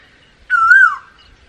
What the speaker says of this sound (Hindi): ये कोयल की आवाज़ है